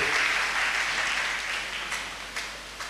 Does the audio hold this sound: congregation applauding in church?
yes